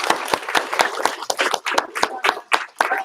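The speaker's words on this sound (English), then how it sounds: "Give him a round of applause." Applause for a newly certified first-degree karate black belt, a steady run of close hand claps at a graduation ceremony, dense and lively across the whole moment.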